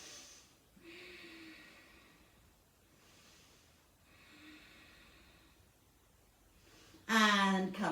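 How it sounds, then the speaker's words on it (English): Slow, deep breaths during a stretching routine, two long soft inhales and exhales, then a sharper, louder breath at the end, close and unaccompanied by speech. "3 more deep breaths here."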